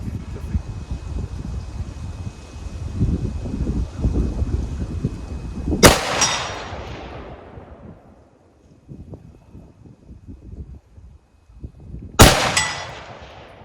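A rifle fired from a tripod gives two loud, sharp shots about six seconds apart, each followed by a rolling echo. Faint background noise comes before the first shot.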